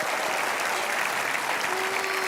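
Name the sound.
audience applause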